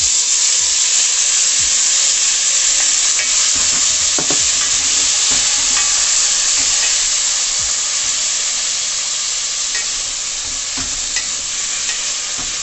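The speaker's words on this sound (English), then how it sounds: "now that the pot is heated, we're gonna add the shrimp." Shrimp frying in a tablespoon of hot oil in a heated pot, a loud steady sizzle and hiss with occasional stirring clatters, close and continuous with no talking.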